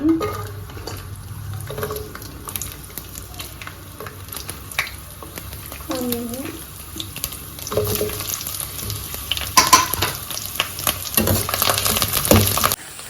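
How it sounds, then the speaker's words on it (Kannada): Garlic frying in a little oil in a pan, a low crackling sizzle with occasional clinks and scrapes of a utensil against the pan, growing busier and louder toward the end, close up. "ಗೈಸ್ ಬಾಣಲಿಗೆ ಸ್ವಲ್ಪ ಆಯಿಲ್ ಹಾಕೊಂಡಿದ್ದಾರೆ. ಬೆಳ್ಳುಳ್ಳಿ ಹಾಕೋಣ"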